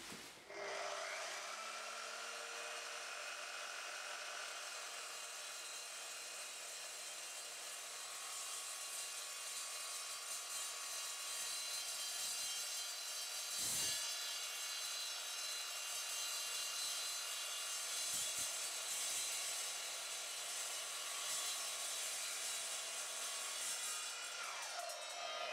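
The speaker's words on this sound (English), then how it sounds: "There is no heat at all when cutting metal on this machine." An Evolution Rage 3DB multipurpose mitre saw cuts through metal, its motor whining up to speed and holding a loud, steady grinding cut for about 25 seconds before winding down, with no talking.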